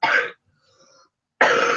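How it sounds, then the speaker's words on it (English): A single person gives a short throat-clearing cough, a brief pause, then a second harsher cough, close and alone. "It's like a warm-up cough."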